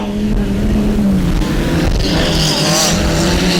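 Hot rod race cars at the 1996 All Ireland Hot Rod Finals in Ballyduff, West Waterford, roar continuously with droning engines and rising whine, loud and steady throughout.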